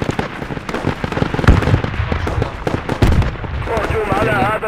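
Heavy machine gun fire in the video game Project Reality: a dense run of loud, rattling bursts and sharp cracks that overlap constantly, with voices talking underneath the barrage.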